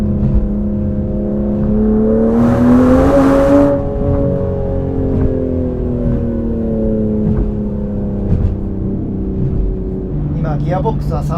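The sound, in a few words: Aston Martin Vanquish V12 engine accelerating at full throttle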